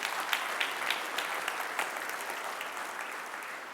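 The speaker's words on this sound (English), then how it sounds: "15 guys, you can clap for it" Steady applause from a keynote audience, many hands clapping at moderate distance with a few sharper claps standing out, gradually easing toward the end.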